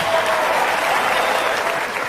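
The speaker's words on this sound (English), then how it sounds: "Some of you are clapping, some are like, I don't get it." A comedy club audience at a Gabriel Iglesias stand-up show claps for about two seconds, a dense, steady burst of many hands with no voices over it.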